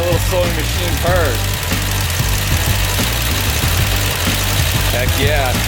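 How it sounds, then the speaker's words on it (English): A 1970 Plymouth Duster's slant 6 engine idles with a steady low, even rumble, close and loud, while excited voices and cheering sound over it. "Listen to that little sewing machine purr."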